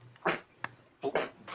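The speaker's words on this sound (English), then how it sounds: "little bit of a sneezing fit" A person sneezes twice, softly and close by, each a short burst with a small pause between, inside a quiet workshop room.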